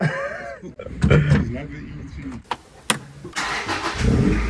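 A loud K-series-swapped Honda Civic engine cranks and roars to life nearby, revving and rumbling in bursts, with voices talking over it.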